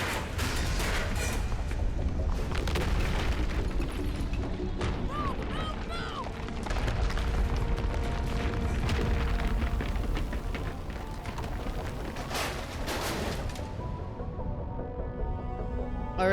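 A loud, sustained burst of video-game explosion and crashing debris, dense and continuous for most of the stretch before easing off toward the end, with no talk over it.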